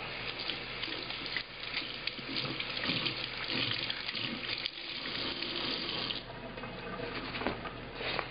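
Water runs steadily from a tap over muslin fabric, a constant hiss and splash close by with slight spattering changes and no talk.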